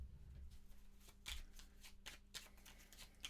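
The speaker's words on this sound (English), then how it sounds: "Give this a quick shuffle." Cards for The Lost Ruins of Arnak board game being shuffled by hand: several quick, crisp riffling bursts close by, with no talk.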